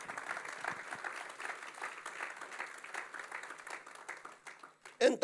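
A church congregation claps in praise, a dense, steady wash of applause that runs for several seconds before a voice breaks in at the end.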